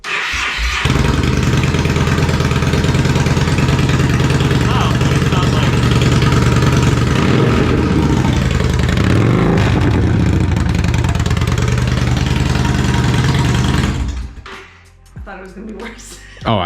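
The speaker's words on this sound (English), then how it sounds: "we're gonna start it up with just the straight pipe and the muffler removed to hear what it sounds like." A Yamaha Bolt motorcycle with a straight pipe exhaust and the muffler removed runs loud and close, its deep steady rumble and roar holding for about fourteen seconds before cutting off, with voices heard afterward.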